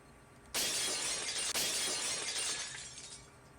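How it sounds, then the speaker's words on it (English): Glass shatters suddenly after a quiet lead-in, a bright crashing burst with a second impact midway, then a long tinkling scatter of shards that slowly fades out. "The unpleasant, piercing sound of shattered glass"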